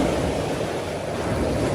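Sea water surging and splashing at high tide against a promenade shore at Walcott, North Norfolk, where a fishing rod is set up; a steady, loud, close wash of surf with no clear individual waves, mixed with wind noise.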